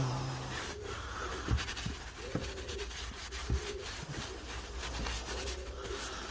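Oil is rubbed onto the blades of a pair of edging shears with soft, repeated close-up rubbing strokes, punctuated by a few light knocks of metal.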